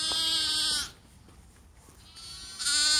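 Spring lambs bleating outdoors on a farm lane: two loud, close bleats, one at the start and one at the end, with a quieter gap of ambient noise between them and no talk.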